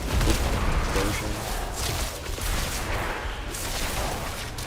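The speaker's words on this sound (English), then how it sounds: "Explosion." Explosions in the video game Diablo 4 rumble as a dense, continuous burst of booming blasts and crackling impacts, loud and sustained throughout.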